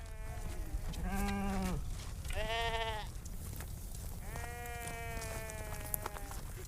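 Several sheep bleating nearby, three or four drawn-out wavering calls with short gaps between them, over a steady outdoor background hum.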